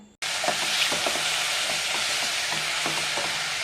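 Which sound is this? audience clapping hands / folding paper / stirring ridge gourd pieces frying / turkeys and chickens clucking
stirring ridge gourd pieces frying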